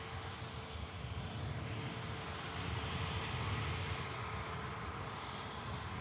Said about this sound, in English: Pegasus is about to taxi past us at the incredible runway visit park